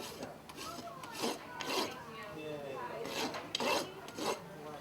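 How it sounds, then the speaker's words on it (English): Farrier's rasp filing a horse hoof, a handful of separate scraping strokes at an uneven pace, fairly soft and close, with no talking. "And then take my rasp again, and if you do it correctly, you should just barely touch the nail head."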